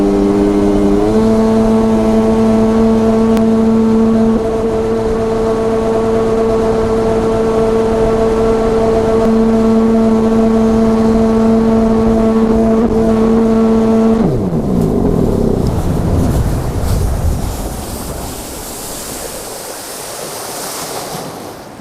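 A Sea-Doo XPL 951 two-stroke engine with a Mikuni Super BN 46i carburettor held at wide-open throttle gives a loud, sustained high whine with a steady pitch, then winds down and fades into washing water and wind.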